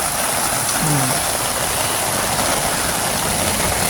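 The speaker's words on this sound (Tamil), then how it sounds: "இன்றைக்கு கொழும்புல 3வது நாளாக மழை பெய்து கொண்டிருக்கு." Heavy rain pours and floodwater rushes along a road in Colombo, forming a loud, continuous broadband roar with a brief low engine-like tone early on.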